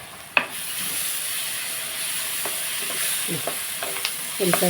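Onions with chili powder and chopped green chilies fry in a pan, giving a steady sizzling hiss throughout, broken by close scraping and clanking as a spoon stirs them.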